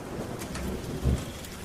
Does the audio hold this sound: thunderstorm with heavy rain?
yes